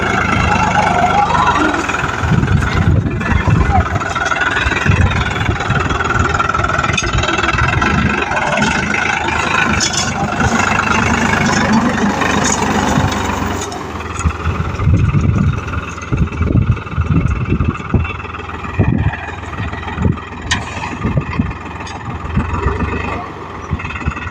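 A tractor engine runs steadily close by with a low, rumbling mid-pitched drone that keeps on throughout, its note changing partway through, with some voices faintly underneath.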